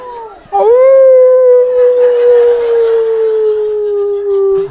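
A person imitates a wolf, letting out one long, loud howl that holds steady and slowly sinks in pitch, close up.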